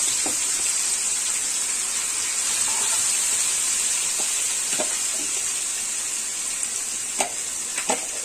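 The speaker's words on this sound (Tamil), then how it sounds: "இந்த ஊற வச்சிருந்த சிக்கனை இதில் இந்த கடாயில் போட்டு ஒரு பத்து நிமிஷம்" Marinated chicken frying in a kadai for butter chicken, a steady bright hiss and sizzle close up with a few sharp crackles and light stirring taps near the end.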